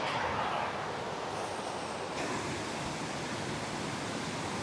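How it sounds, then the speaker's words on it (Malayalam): A strong monsoon-swollen river current rushes at Pampa, Kerala, a dense, steady roar of flowing water with no pauses, close and loud throughout. "ഇപ്പോൾ ഇത് ഇഷ്ടം പോലെ വെള്ളം, നല്ല ഒഴുക്കുണ്ട്."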